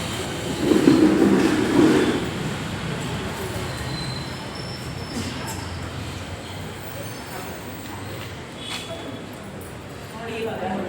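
A metro train runs past with a steady low rumble and faint rail noise that swells near the start and then settles to an even drone, while people talk throughout.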